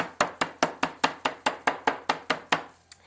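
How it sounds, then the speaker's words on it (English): Round steak pounded with a meat tenderizer: eleven sharp, evenly spaced thuds in a steady rhythm, close and loud, then one lighter tap after a short pause, with no voices. "I take my meat tenderizer and give it a little pounce because round steak's a little tough"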